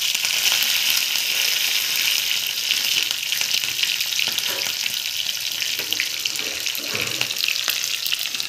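Mustard seeds, green chili and curry leaves sizzle steadily in hot oil in a pan for a besan dhokla tempering, a dense continuous crackle with faint pops and occasional scraping, close and loud with no voices.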